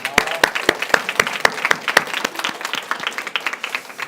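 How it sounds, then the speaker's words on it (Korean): Applause from a church congregation at a Sunday service, sharp claps at first then settling into a steady, fairly close patter of many hands that fades somewhat toward the end. "박수 한번 쳐주세요"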